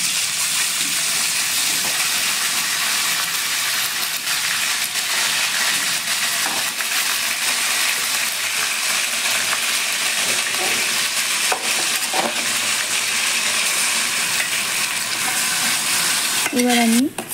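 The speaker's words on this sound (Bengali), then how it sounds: "এবার আমি কাঁচা মেখে রাখা মাংসগুলো কড়াইয়ের মধ্যে দিয়ে দেব।" Marinated local goat meat hits a hot wok in a low-oil, lightly spiced curry and fries with a loud, steady sizzle, stirred throughout, no voices.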